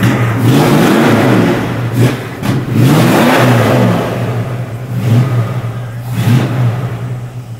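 A Plymouth Duster's engine revs hard after stalling, rising and falling through several loud throttle surges over a steady rumbling idle, close to the car.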